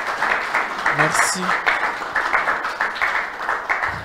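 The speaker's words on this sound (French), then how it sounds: "Avec nos applaudissements." An audience at a Christian sermon applauds steadily, a continuous patter of many hands clapping, while a voice speaks over it.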